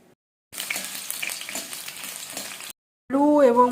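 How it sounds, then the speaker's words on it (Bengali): Potatoes fry in hot oil in a wok, giving a dense, close sizzle that runs for about two seconds and then cuts out, followed by a brief burst of a voice at the end. "এবার কড়াইয়ে তেল দিয়ে আলুগুলোকে"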